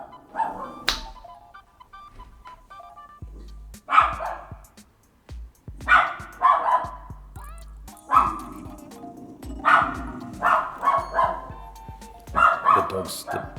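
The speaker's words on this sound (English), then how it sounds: "Dogs are going off." Several dogs barking in a house by a Perth bridge, repeated sharp barks and yips in irregular bursts at moderate distance, with a person talking over them.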